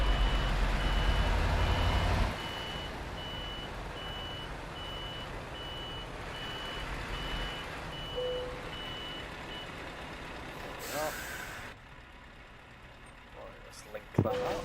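A Scania truck in Euro Truck Simulator 2 gives a steady series of reversing beeps over a low engine drone. The beeps keep coming for several seconds before fading under a brief air hiss and other game sounds.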